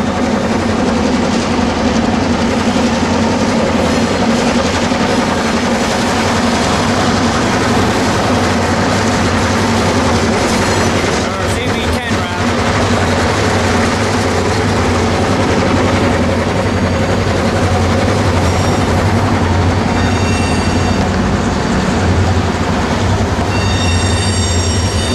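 A CB60 train rolls past on the rails coming off a curve onto a secondary line, a loud, sustained rumble of wheels and cars with brief high squeals partway through and toward the end.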